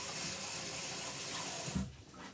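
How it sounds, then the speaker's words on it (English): Running tap water pours steadily as a paintbrush is rinsed under the faucet, a close continuous splashing hiss that stops abruptly with a brief clunk near the end. "Let me rinse my brush off real quick"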